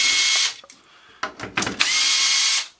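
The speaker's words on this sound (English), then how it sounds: "First, I'm going to remove these 6 bolts covering this housing." Power drill running on bolts in the housing of a pulse air furnace's flapper assembly: two long, loud bursts of steady whirring bracket a few short, sharp spurts and clicks, with no voices.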